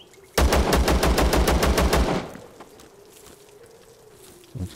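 A fast automatic burst of about a dozen gunshots rings out in Zero Sievert, a rapid evenly spaced string lasting under two seconds, then quiet ambience with a faint thud at the end.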